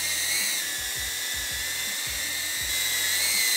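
A cinewhoop drone on 3-inch six-blade props whines with a high, steady, drill-like buzz, its pitch shifting slightly as it backs away, loud and continuous, alone with no speech.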